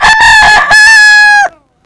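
A cockerel crows once, loud and close: a single sustained call, about one and a half seconds long, with no other sounds around it.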